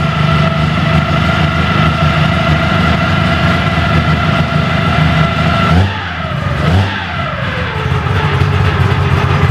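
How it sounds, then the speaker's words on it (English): Holden Torana A9X engine with gear drives running, a loud close rumble with a steady whine, dipping twice briefly as the revs drop and recover. "Listen to those gear drives."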